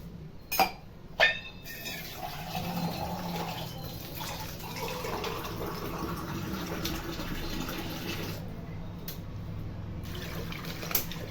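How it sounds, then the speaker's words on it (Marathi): Water runs into a pressure cooker holding washed chai tubers, a continuous rushing pour lasting most of the stretch, bracketed by a few sharp metallic knocks at the beginning and end. "कुकरमध्ये टाकू धुवून घेतलेत तर पाणी टाकूया थोडं"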